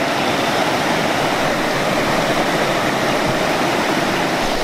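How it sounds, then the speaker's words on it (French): Steady rain falls beside a cold river, a dense, even rushing hiss of water that fills the whole stretch without pause, loud and close, with no voices. "Il pleut bien en plus."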